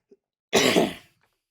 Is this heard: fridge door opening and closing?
no